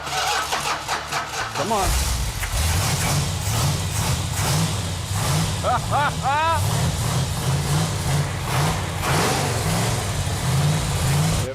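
A car engine cranks, catches and settles into a steady, rumbling idle that runs on close by, while voices talk over it.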